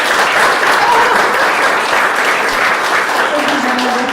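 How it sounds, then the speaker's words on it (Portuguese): Audience at a motivational lecture in Brazil gives a short burst of applause, a loud, even roar of many hands with a few voices mixed in underneath. "É bom demais ser aplaudido"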